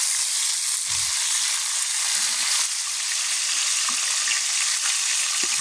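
Crucian carp frying in a pan, a loud continuous sizzle with crackling pops, close up and unbroken.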